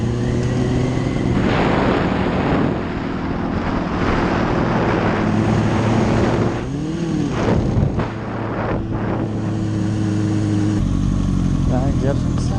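A motorcycle engine drones loudly while riding on a road trip through Latin America, steady and close with heavy wind buffeting the microphone; a brief engine rev rises midway.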